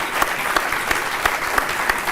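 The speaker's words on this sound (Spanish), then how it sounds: "Lo podemos aplaudir a este, por favor." Dense, steady audience applause fills the room for a Sex Pistols vinyl record, Flogging a Dead Horse, with sharp individual claps popping out of the continuous crowd clapping.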